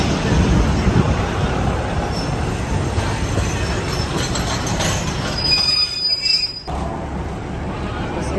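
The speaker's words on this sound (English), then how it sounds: "Let's get on the train." Train at Bangkok's main railway station, a loud continuous rumble of rolling railcars with high wheel squeals, fading slightly toward the end.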